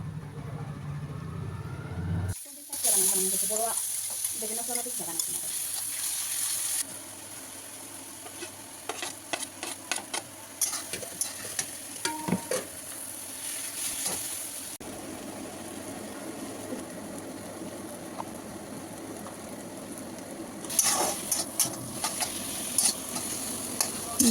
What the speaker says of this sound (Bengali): আর এখন আমি বেগুন ভর্তাটারে ভাজুম।